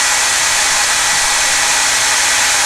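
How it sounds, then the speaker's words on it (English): A hair dryer blows over art journal paint with a loud, constant, close-up rush of air that never changes pitch. "look how high I have to hold the hair dryer up"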